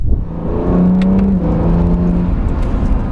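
Honda NSX sports car engine pulling out of the pit lane at the Estoril circuit, a loud steady roar that climbs in pitch as it accelerates, close up and with no one talking.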